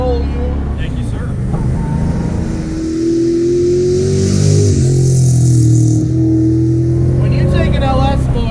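An LS V8-swapped 1986 Mazda RX-7 (FC) drives with a steady, deep engine drone that swells louder midway, close and continuous with a light rattle.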